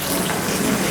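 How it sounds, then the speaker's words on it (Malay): A little water is poured from a blender into a pan of ayam sambal ketumbar, a brief loud continuous gushing close by with no talk. "kemudian kita nak masukkan sedikit air"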